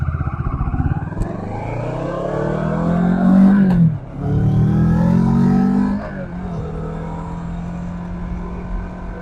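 A motorcycle engine hums steadily up close, then revs up and falls away twice as the rider shifts through gears, the pitch climbing and dropping before settling into a steady cruise.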